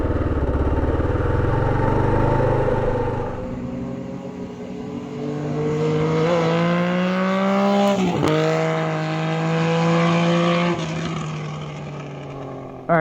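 A 2005 Kawasaki KLR650 motorcycle engine runs steadily nearby, its tone rising and falling through several gentle revs with a brief sharp blip midway, loud and continuous with no talking.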